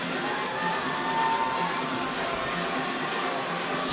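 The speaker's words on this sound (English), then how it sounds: "The crowd is on their feet for Ellie Shea." Crowd cheering at an indoor track race during the New Balance Nationals Indoor meet, a continuous, dense roar from the stands that holds at a steady level with no clear single voices.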